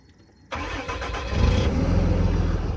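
A truck engine cranks and catches on a chilly morning, jumping from near silence to a loud rumble, then settling into a steady, heavy idle close by.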